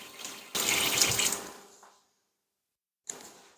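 Warm water gushes from a kitchen tap in a loud burst for about a second, tapers off to silence, then starts again briefly near the end while bread is being made.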